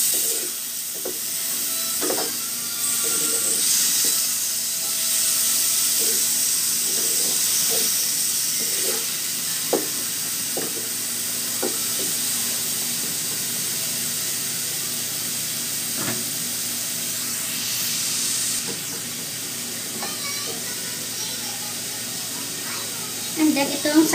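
Chicken liver and vegetables sauté in a pan with a steady close sizzle and hiss, broken by occasional clicks and stirring taps, while a person talks over it at times.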